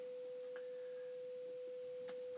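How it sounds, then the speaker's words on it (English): A steady 500 Hz sine tone from an Amiga computer's audio output plays through speakers, a constant clean hum held throughout at low level, with faint background noise and a couple of brief clicks. "This is the 500 hertz sine wave."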